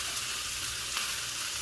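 Fried rice is tossed in a frying pan under a constant loud sizzle, with a faint scrape of the utensil partway through the short stretch.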